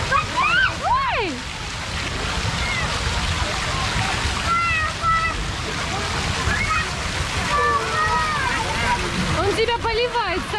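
A crocodile-shaped fountain at a water park sprays a constant splashing stream of water, with children's excited voices and squeals rising over it nearby.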